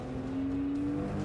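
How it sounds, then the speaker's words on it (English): A car driving around a race track at a relatively modest speed, its engine giving a smooth, steady hum that holds one even pitch throughout, close and continuous. "We're driving around the track now at a relatively modest speed"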